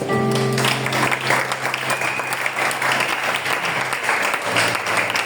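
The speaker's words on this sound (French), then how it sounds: "Si tu comprends, acclame Jésus" A church congregation at a Sunday worship service claps and cheers in a steady, dense burst of applause that fills the room and carries on for several seconds without pause.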